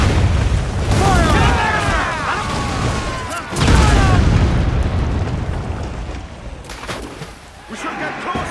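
Ship cannon fire in the video game Assassin's Creed Black Flag: heavy booming blasts roll out during a naval battle, mixed with shouted crew orders and whistling, sweeping sounds overhead.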